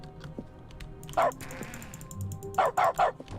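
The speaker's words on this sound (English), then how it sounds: "Now there's a dog sound every time I interact with something." Short dog barks from dog mode in The Stanley Parable Ultra Deluxe, set off by interacting with objects: a clipped yip followed by a quick run of three sharp barks, mixed with soft clicks and a faint hiss.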